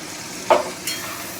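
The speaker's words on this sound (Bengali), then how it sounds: "আলুটা দিয়ে আমি একটু নাড়াচাড়া করে নেবো" Potatoes with poppy seed paste in a pan take two quick stirring scrapes over a faint, steady sizzle.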